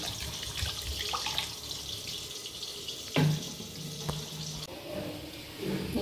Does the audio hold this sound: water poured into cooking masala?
yes